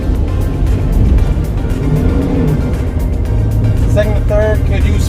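A 2006 Lexus IS250 pulls away and works up through first, second and third gears, its engine note rising and dipping steadily at close range, with a person talking over it.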